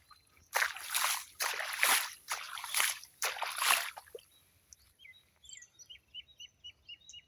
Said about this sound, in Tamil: பாருங்கள் தண்ணி பாஞ்சிட்டே இருக்குது